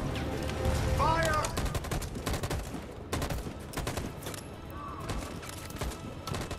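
Repeated gunfire in a battle scene in the video game Detroit: Become Human, sharp close shots in irregular volleys throughout, with scattered game voices and effects mixed in.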